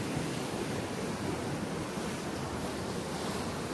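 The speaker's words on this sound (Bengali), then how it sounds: "এখানে এখন বর্তমানে উত্তাল সমুদ্রের ঢেউ চলতেছে" Rough sea waves pound the Jeddah seashore by a mosque, a dense continuous roar of surf mixed with strong wind buffeting the microphone, steady and loud throughout.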